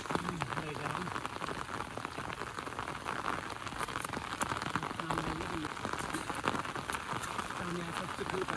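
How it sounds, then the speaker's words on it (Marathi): Steady rain patters on surfaces over village rice paddies during planting in a constant hiss, while a voice talks intermittently beneath the downpour. "पाऊस आला ना"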